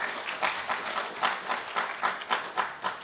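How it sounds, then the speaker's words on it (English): Audience applause for award winners at a national business excellence awards event in Vigyan Bhavan, New Delhi, heard as rhythmic clapping that pulses in even beats, moderately distant and fairly soft. "Can we have a huge round of applause for all the winners?"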